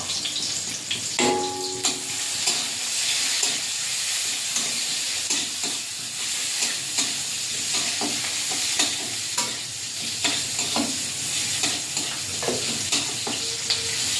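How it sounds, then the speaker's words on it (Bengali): Onion with a bay leaf and five-spice seeds frying in hot oil in a wok, a steady loud sizzle throughout, broken by occasional scraping stirs and spatula clinks; no voices. "পেঁয়াজটা ভাজা হয়ে গেছে"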